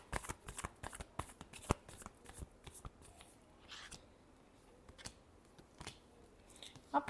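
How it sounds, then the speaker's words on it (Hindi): Tarot cards being shuffled in repeated quick riffling bursts, close and fairly quiet, with brief pauses between flurries and no talking. "Last shuffle."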